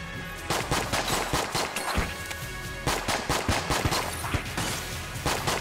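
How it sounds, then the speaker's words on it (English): Rapid gunfire from Enter the Gungeon, bursts of sharp shots in quick clustered volleys with brief gaps between them, loud and close. "I'm shooting from as far away as I possibly can, man."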